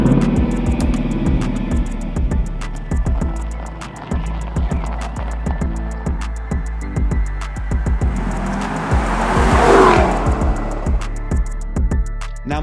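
A Lexus LC500 V8 coupe passes by outdoors, its engine note swelling to a loud peak near the end and then fading, with steady road and wind noise throughout and no talk.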